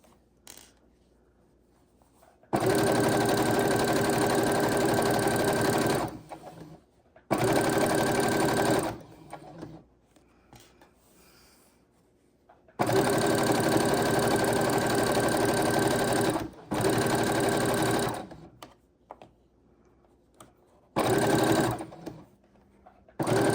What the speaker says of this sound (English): I am going to be sewing twice for reinforcement for this dress